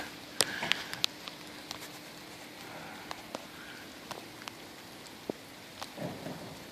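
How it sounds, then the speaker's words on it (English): Quiet, steady rain patters nearby, with scattered louder drips landing now and then. "staying out of the rain"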